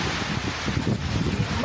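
Strong typhoon wind during landfall in Casiguran, Aurora, a loud, close, continuous roar with rough microphone buffeting and no voices.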